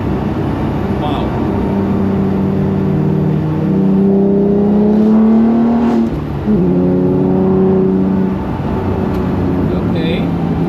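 The HWA EVO prototype car's engine revs on the Nürburgring, heard from inside the cabin: a loud climbing whine through several gear changes, with a short dip and shift around the middle, as a voice talks over it.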